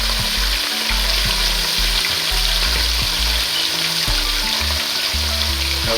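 Crispy fried fish cooking in very hot oil gives a continuous dense sizzle and bubbling crackle, close and steady throughout, with no voices.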